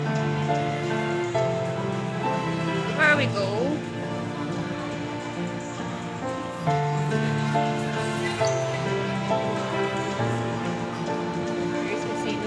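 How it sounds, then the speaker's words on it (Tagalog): Rain falls outdoors in a steady patter on surfaces, continuing beneath people talking nearby. "hindi maganda ang panahon today, umuulan."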